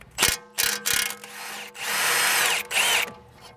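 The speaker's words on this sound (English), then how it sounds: "We're going to use a 16mm wrench to counterhold the nut and an 18mm socket on our impact on the opposite side to break this bolt free." An impact wrench with an 18mm socket hammers a front strut bolt loose on a 2019-present BMW G20 330i, loud close bursts: three short rattles, then a long sustained run and a final burst, no talk.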